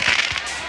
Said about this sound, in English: the 41st annual fireworks show for 4th of July that happened in my hometown